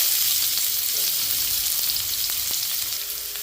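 Ginger, garlic and onion fry in hot oil in a pan, giving a steady, close crackling sizzle with faint stirring scrapes and no talking.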